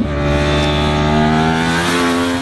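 A Yamaha R1 sport motorcycle engine revs hard and steadily at mid-range speed, loud, close, and continuous, with no voices present.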